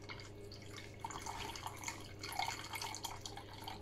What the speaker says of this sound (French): on va la passer à la passoire au chinois